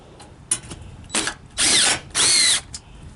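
A power drill drives screws into trim in short bursts: a few brief whirs, then two longer, louder runs of the motor winding up and down, close by with no talk.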